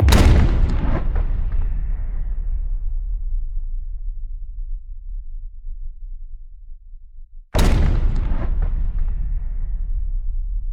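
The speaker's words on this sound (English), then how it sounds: "This included the initial gunshot and the echo once we left the slow motion sounds." Two heavy, slowed-down gunshot booms, each followed by a long rumbling echo that decays gradually, with a gap before the second blast.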